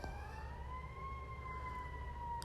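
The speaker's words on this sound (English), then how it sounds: "what is going on with these sirens?" Wailing sirens sweep slowly up and down at a distance, steady and continuous over a low traffic rumble.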